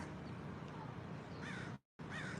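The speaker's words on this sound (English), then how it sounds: "Crows are terrifying." A crow caws in a couple of short, harsh calls rising over a steady background hum, the sound breaking off briefly before resuming.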